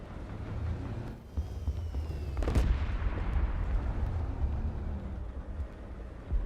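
A tank cannon fires in the War Thunder video game, a single sharp boom that blooms into a rumbling roar and slowly decays over the engine drone.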